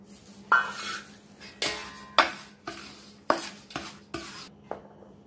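Coriander seeds and fenugreek seeds are mixed together in a bowl for a raw mango pickle, giving a series of roughly eight distinct scraping, rattling strokes with short pauses between them and no talking.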